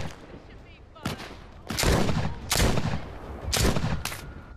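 Gunfire from a gun in The Walking Dead: Saints and Sinners video game, several loud, close shots fired in a quick irregular burst.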